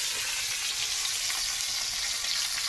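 Snakehead fish pieces fry in hot oil in a pan until reddish-brown, giving a loud, constant close-up sizzle with no pauses.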